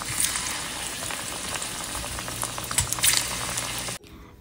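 Sweets dropped into hot oil fry with a dense, crackling sizzle and spattering bubbles that build briefly, then cut off abruptly near the end.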